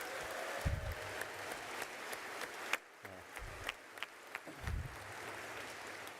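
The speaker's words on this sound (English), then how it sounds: "So a round of applause for the EFF." A conference crowd at the DEF CON 32 closing ceremony applauds, thin and distant, with scattered individual claps and a few low thumps rather than a full ovation.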